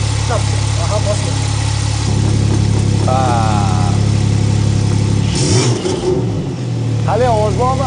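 A Nissan GT-R Carbon Edition engine runs with a steady low hum throughout, under nearby voices talking and a few exclamations.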